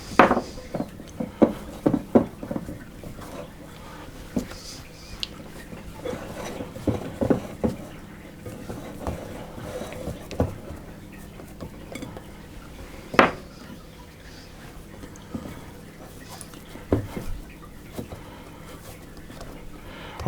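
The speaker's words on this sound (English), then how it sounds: "I'm going to scrape down the bowl, get that" A utensil scrapes around a mixing bowl of curd cheese dough for Russian pastries, giving irregular clinks and knocks of metal on the bowl over about twenty seconds, with quiet scraping between and faint background noise.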